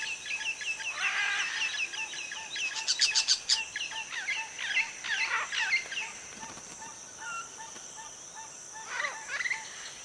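Wild macaw parrots call in the open: a burst of harsh, squawking cries and shrill chirps crowds the first half, then the calls thin out into scattered, fainter squawks with one more short flurry near the end.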